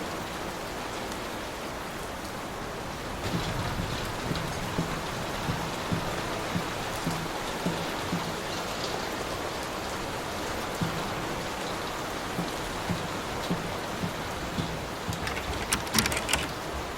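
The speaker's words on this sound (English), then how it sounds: "Will this storm ever run out of rain?" Heavy storm rain pouring in Layers of Fear, a dense steady hiss with faint pattering drops and occasional soft knocks, constant and close, no voices.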